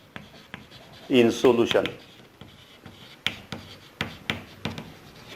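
A teacher writes on a board during a mathematics lecture on differential equations, producing a burst of quick scratching strokes followed by scattered taps and scrapes, with the teacher speaking between them.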